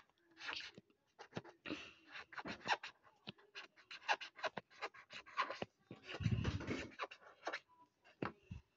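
A pen scratches across paper while a cartoon shark is drawn, making a steady run of short, close, dry strokes with brief pauses between them and a slightly heavier scribble partway through.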